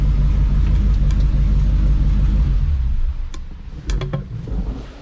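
A vintage truck's V8 engine rumbles deep and loud for a few seconds, then the heavy drone eases to a lower, quieter idle with a few light clicks and knocks.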